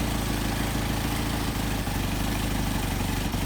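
A Mercedes 190SL engine fitted with Solex carburetors idles steadily and close by, a continuous even rumble with no voices over it.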